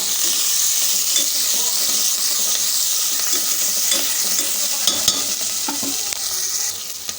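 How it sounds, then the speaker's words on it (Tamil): Ginger, green chillies and curry leaves being stirred in a pan over a loud, steady hot-oil sizzle, with the spoon scraping and knocking against the pan at close range. "இப்போ இது எல்லாத்தையும் சேர்த்து மிக்ஸ் பண்ணி விட்டுப்போம்"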